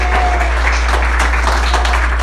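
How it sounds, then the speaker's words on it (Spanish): Steady applause from a church congregation during a morning service fills the space as a broad wash of clapping, sustained and even, over a low constant hum. "si vas a aplaudir, aplaude en esta mañana"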